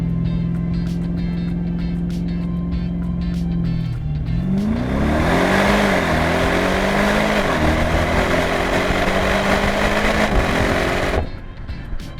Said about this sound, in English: we're gonna do a quick launch at this light here